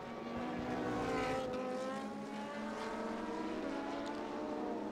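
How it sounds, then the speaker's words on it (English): GT Asia race cars roar past a circuit in a sustained, loud engine drone, with pitch sliding as machines pass at speed; no commentary over it. "Listen to those engines roaring past here."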